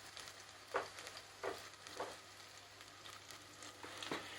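Onions frying in oil in a hot pan, giving a soft, faint sizzle with a few gentle stirring scrapes at intervals, close and quiet.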